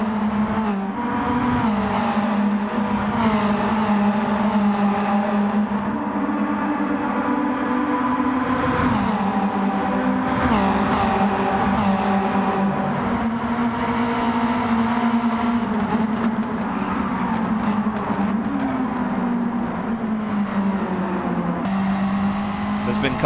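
Race car engines roar continuously in the Gran Turismo 7 racing game, a loud sustained drone with shifting pitch as the cars accelerate and shift gears, while someone talks over them throughout.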